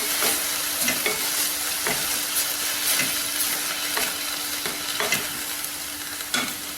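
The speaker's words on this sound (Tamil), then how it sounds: "கீரையை நல்லா வதக்கணும்." Drumstick leaves sauté in a pan for soup, giving a continuous close sizzle. A spoon stirs and scrapes against the pan every second or so, and a faint steady hum runs underneath.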